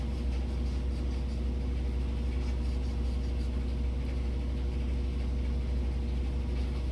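Continuous low droning rumble from a household washing machine running in the background, even and unbroken, with no voices over it.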